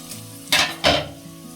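Vermicelli upma cooking on a low flame, two quick bursts of sizzling as food is stirred or added to the hot pan with a metal utensil clatter, over a quiet background hum.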